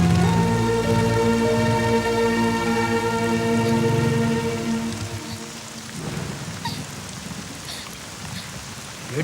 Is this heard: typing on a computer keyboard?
no